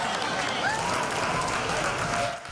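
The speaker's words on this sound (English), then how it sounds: "you'll find crowds like these cheering for their heroes" An airport crowd at Greater Rochester International Airport cheers and claps for returning veterans, a steady wash of applause and excited voices that holds throughout before easing off at the very end.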